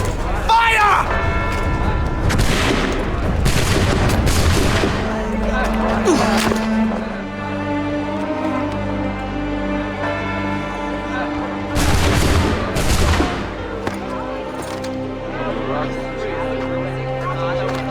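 Musket volley gunfire in Assassin's Creed 3, booming shots bursting out near the start and again around the middle over a sustained game music bed, with voices speaking in between.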